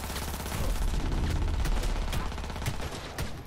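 Gunfire in the video game Cyberpunk 2077, a loud rapid burst of automatic shots over a heavy low rumble, with sharp cracks punctuating the sustained firing throughout.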